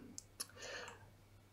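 Computer mouse clicking, two sharp quick clicks close together, quiet and close, followed by a faint soft rustle.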